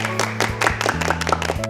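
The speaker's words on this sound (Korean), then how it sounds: "우리 서영 드리머에게 격려의 박수 부탁드립니다." Applause from a studio audience at a televised Korean quiz show, encouraging an eliminated contestant: a short burst of scattered clapping over steady background tones, fairly close and moderately loud.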